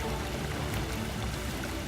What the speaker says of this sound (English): I'm starting to hear water. Almost sounds like a river.